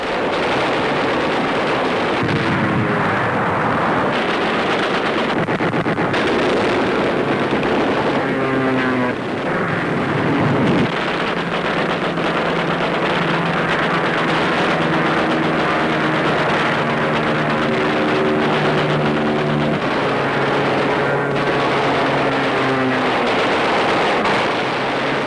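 Wartime air combat with Luftwaffe aircraft, droning engines and repeated bursts of machine-gun fire under a dense, loud, continuous roar, with whining engine tones rising and falling throughout.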